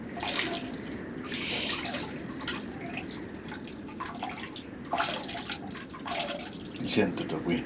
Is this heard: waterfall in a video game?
yes